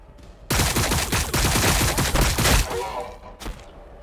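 Dense, loud gunfire from Warhammer 40,000: Battlesector, a rapid fusillade of overlapping shots and bursts that runs for about two seconds, then thins out into a few scattered reports.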